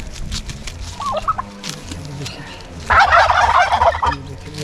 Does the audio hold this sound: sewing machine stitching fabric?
no